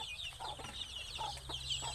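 Chickens cluck softly and repeatedly at close range, a faint scattered run of short calls over a low steady hum.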